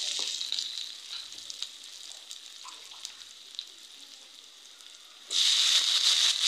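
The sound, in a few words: mola fish with spices being stir-fried in a pan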